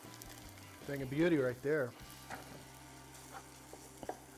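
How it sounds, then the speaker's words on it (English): Food dumped into a frying pan at about 300 degrees for a Rotel cheese dip, giving a close, crackling sizzle with scattered pops and stirring noises while someone speaks briefly over it. "Hear that sizzle?"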